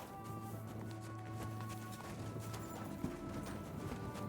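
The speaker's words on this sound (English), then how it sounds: "Just gonna ride in horse." A horse ridden in Kingdom Come: Deliverance 2 clip-clops at a steady pace under a quiet background hum, with rhythmic hoofbeats continuing throughout and a sharper thud near the end.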